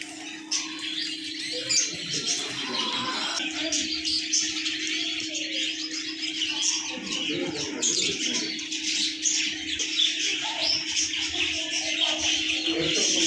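A dense chorus of budgerigars chirping and twittering continuously in a pet shop, with a steady hum and occasional faint voices in the background.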